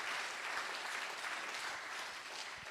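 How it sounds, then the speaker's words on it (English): Audience applauding Stacey at a national grand final awards night: steady, moderately distant clapping from a crowd that holds at an even level throughout without voices. "So can we give Stacey a big round of applause,"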